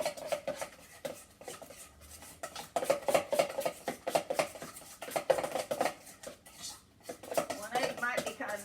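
Thin batter for deep fried bubbles stirred with a spoon in a bowl, a close, irregular clatter and scraping of metal against the dish, fairly quiet.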